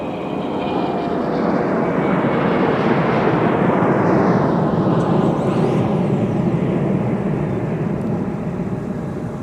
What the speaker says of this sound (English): Another 717 departure.